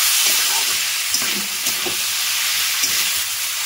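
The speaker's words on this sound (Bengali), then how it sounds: "দেখো লাউয়ের সঙ্গে চিংড়ি মাছগুলো ভালো করে আমি মিশিয়ে দিচ্ছি।" Bottle gourd and shrimp stirred together in a frying pan: a loud, steady sizzle of frying with soft scraping stirs breaking through every half second or so, no voices.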